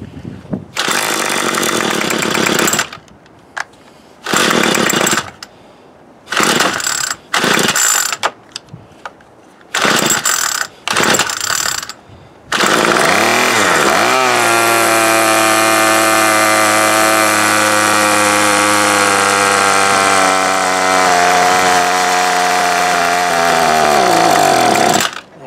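An MTD Bolens BL110 25cc curved-shaft string trimmer with new fuel lines, outdoors in the cold: several short pull-start bursts sputter and die, then the small two-stroke engine catches and runs loud and steady up close.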